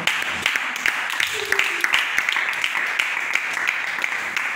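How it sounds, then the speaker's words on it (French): A church congregation claps and cheers during a service. The applause is steady and fairly close, and voices speak over it throughout. "On va acclamer."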